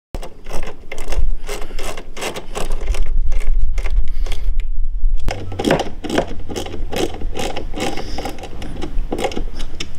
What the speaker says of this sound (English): use two 10 millimeter sockets to tighten the nuts onto the bolts